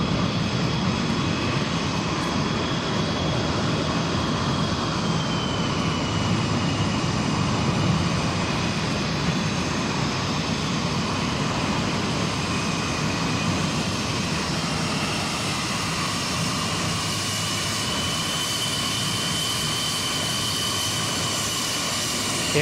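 Blue Angels jets fly a practice display over Boeing Field, producing a loud, unbroken jet roar that fills the air for over twenty seconds, with no talk.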